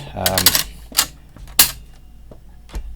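Loose side lever rattling on an Emei EM4 side-lever air rifle, a few sharp clattery metallic clicks and knocks in quick bursts, close up.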